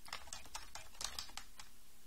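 Quiet, close computer keyboard typing on a Linux machine: about ten crisp keystrokes in an even rhythm, with no talking.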